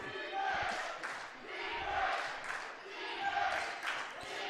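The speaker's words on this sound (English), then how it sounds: "Crowd getting into it" Crowd at a girls' high school basketball game between the Union City Bears and North East Grape Pickers, a steady roar of cheering and shouting that swells and fades in waves around a gym, with scattered sharp bounces and squeaks.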